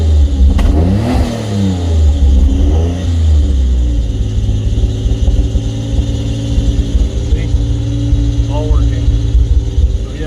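A car engine with old spark plugs that make it misfire revs up sharply near the start, then settles into a loud, rough running rumble for the rest of the clip, with a voice talking over it.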